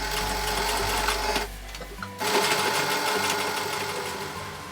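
A sewing machine stitches blackout eyelet curtain fabric with a loud, steady mechanical whir. It pauses briefly partway through, then runs on.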